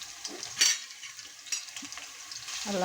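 Green chillies crackle and fry in hot oil in a pan for a tomato and brinjal curry, a steady sizzle with a few sharper spits and scrapes of stirring, close by with no talking.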